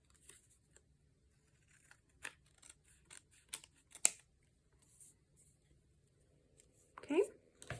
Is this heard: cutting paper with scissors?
yes